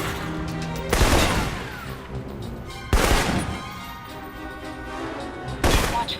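Assault rifle fire in the video game Alpha Protocol: three loud, close single shots about two seconds apart, each with a sharp crack and a reverberant tail, over low game ambience.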